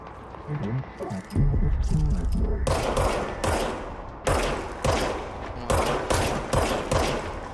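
Repeated bursts of gunfire in the supernatural action game Control, loud and close, firing in several spaced volleys with brief gaps between them.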